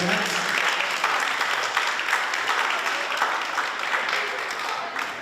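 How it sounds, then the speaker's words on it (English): Audience clapping after a bear dance performance at an outdoor dance ground event: a steady wash of applause from a crowd at moderate distance, continuous throughout and slowly thinning near the end. "All right, give them a round of applause for that wonderful dance."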